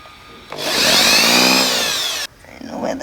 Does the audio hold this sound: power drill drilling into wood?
yes